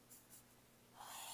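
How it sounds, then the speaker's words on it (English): Karas Kustoms Ink fountain pen with a regular Schmidt nib writing on paper, a faint close scratch of a couple of short strokes, then a longer soft scrape near the end. "Nice wet writer, being that this is a regular Schmidt nib."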